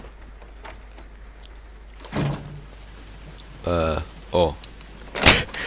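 A door opens in the video game Heavy Rain, giving a few distinct mechanical thumps and slides in a quiet interior, with a brief voiced exclamation.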